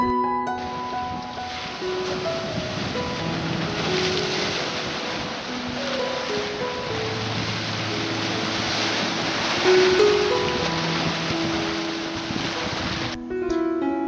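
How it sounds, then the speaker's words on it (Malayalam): Ocean waves at Kappil beach in Kerala wash and roar steadily, with heavy surf and wind noise on the microphone, loud and continuous with no speech. "തിരമാലയുടെ ശക്തി കാരണം കുറുകെ കെട്ടിരിക്കുന്ന പാറകൾ ഇളകി മാറി അതിലൂടെ വെള്ളം കായലിലേക്ക് ഒഴുകുന്നുണ്ട്"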